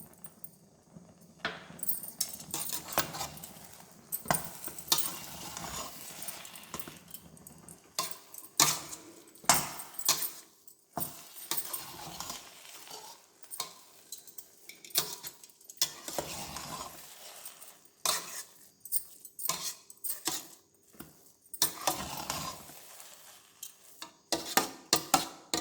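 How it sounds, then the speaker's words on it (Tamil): Coriander leaves get stirred into vegetable upma with a spoon. Intermittent scraping and clacking strokes against the pot come in uneven bursts with short pauses, close and fairly quiet. "இப்போ கொத்தமல்லி தழை போட்டு ஒரு கலக்கிடலாம்."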